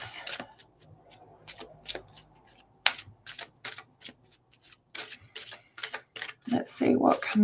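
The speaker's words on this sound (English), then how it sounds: "I just shuffled the deck several times" Deck of cards shuffled by hand at a reading table: a run of quick crisp riffling and snapping bursts, close and fairly loud, with a voice speaking briefly near the end.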